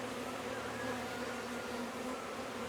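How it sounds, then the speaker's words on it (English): A swarm of bees being herded with a feather produces a steady, close, even buzzing drone that carries on without pause. "Now the bees are going backwards"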